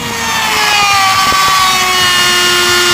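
A router fitted with a small round-over bit shapes the edges of a wooden iPad and iPhone holder, giving a loud, close, continuous motor whine that holds steady, with no talking.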